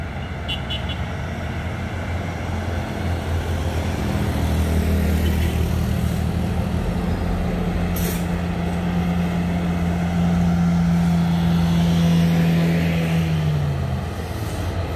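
A trailer truck loaded with ground piles rolls past on a road, a steady heavy engine drone rising and falling, with a sustained low tonal hum swelling through the middle of the pass over constant traffic rumble.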